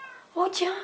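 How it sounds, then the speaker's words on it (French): A Minecraft cat gives a short, close meow with a rising-then-falling tone, and someone speaks briefly just before it. "C'est le chat de Georges."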